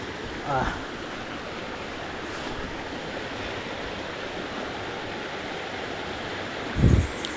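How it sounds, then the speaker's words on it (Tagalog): A river rushes in a steady, loud broadband roar, with a couple of brief louder splashes or knocks near the start and end. "medyo malakas ang ilog na yun"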